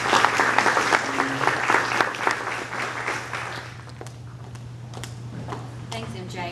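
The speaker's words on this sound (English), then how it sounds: "I'd like to give Paula and her staff a big round of applause" Audience applause at a chamber of commerce luncheon, a steady wash of many hands clapping that thins out over the second half, with a low hum underneath and voices murmuring as it fades.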